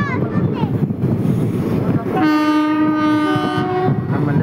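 Tirupati Express train running nearby on a short-distance run, its horn sounding a long steady blast midway through over continuous rumbling wheel and engine noise, with some background voices.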